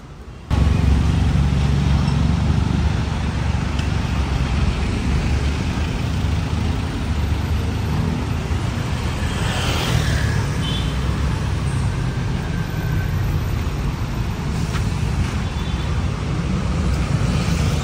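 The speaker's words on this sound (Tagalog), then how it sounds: "Grabe yung traffic ngayon dito papuntang ilalim ng expressway." Steady traffic under an expressway exit ramp in Manila, a continuous low rumble of idling and passing engines with heavy vehicles, moderately loud and without talk.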